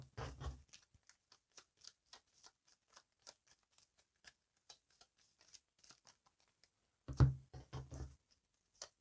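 Arkham Horror board game cards are shuffled by hand in a quiet room, a close run of soft, irregular flicks and taps with a denser burst of riffling near the end.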